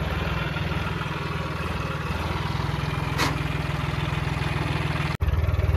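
A tractor engine runs steadily near the Yamuna river, a loud, close, continuous low drone with a regular pulse and a brief sharp break near the end.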